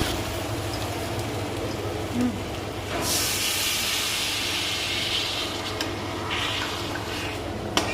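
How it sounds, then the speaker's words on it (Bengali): Water splashed into a hot pan of fried, well-cooked spices for a green banana curry, a sudden loud broadband hiss bursting in and sizzling steadily for several seconds with no one talking. "এবার দিয়ে দেব জল"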